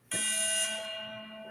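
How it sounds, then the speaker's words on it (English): Game show wrong-answer buzzer blares once as a loud harsh electronic tone, sustained for over a second and slowly fading, alone without talk. "you'll hear that buzzer sound"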